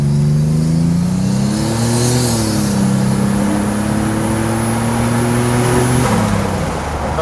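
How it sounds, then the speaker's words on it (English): A 1987 Buick Grand National's big turbocharged engine holds at steady high revs while brake boosting, droning loud and close for several seconds before dropping off near the end. "We're gonna brake boost it,"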